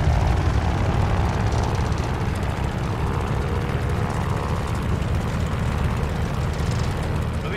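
A steady, loud aircraft engine roar at full power in the video game Call of Duty: Vanguard, dense low rumble with a constant droning texture throughout, no voices.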